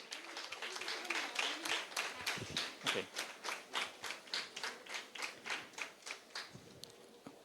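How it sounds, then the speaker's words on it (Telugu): Audience at a Miss TCU crowning ceremony clapping in a steady, even rhythm, a run of distinct claps at moderate distance that grows slightly more regular, with brief murmurs of voices underneath. "ఓకే, అందరు చప్పట్లు కొట్టాలి."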